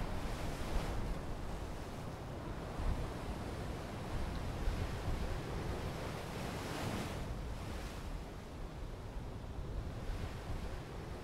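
Turbulent Atlantic surf off Fernando de Noronha, where the reef-sheltered inner sea meets the open outer sea, crashes and churns continuously with rolling surges and wind buffeting the microphone, with no voices.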